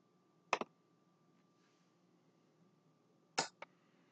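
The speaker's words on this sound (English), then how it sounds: "So if you can hear that, the relay is clicking." A relay in a Raspberry Pi 3 B+ Christmas lights project gives two sharp mechanical clicks about three seconds apart, each a quick double tick, close and distinct over a quiet background.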